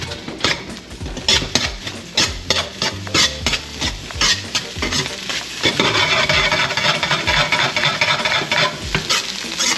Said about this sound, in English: now I want to go in with a little bit of the white part of the green onion, just so I can stir fry that a little bit